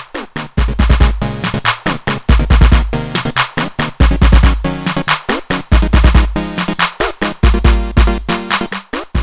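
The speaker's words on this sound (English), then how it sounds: "The sounds you hear are coming straight from this machine." TINRS Fenix IV synthesizer playing a patch, with punchy rhythmic bass notes and bright repeated tones in a steady driving pattern, loud and continuous with no talking.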